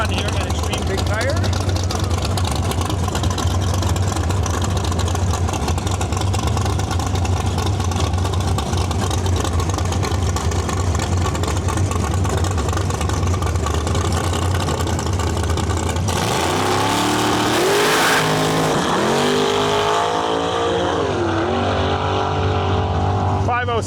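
A Pontiac Acadia drag car making a solo bye run at an Extreme Big Tire drag race: a loud, sustained engine roar throughout that rises into a sharp revving, shifting surge near the end, with an announcer talking over it.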